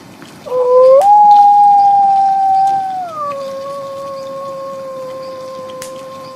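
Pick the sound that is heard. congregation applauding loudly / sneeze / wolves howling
wolves howling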